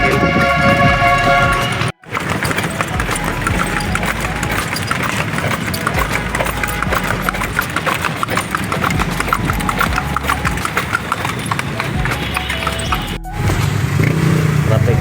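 Steady clip-clop of horse hooves on pavement amid busy traffic noise, with engines and a brief drop in sound near the start.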